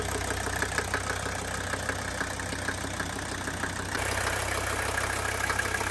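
A Mercedes diesel wagon engine idles steadily nearby, with a constant low rumble and faint rhythmic clatter throughout.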